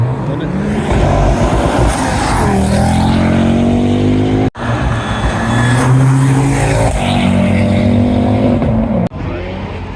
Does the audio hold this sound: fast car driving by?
yes